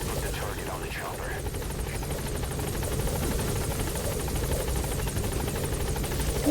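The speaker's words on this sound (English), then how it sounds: "Put the target on the chopper." A helicopter in Metal Gear Solid V drones with a steady rotor buzz throughout, loud and constant, while voices talk over it.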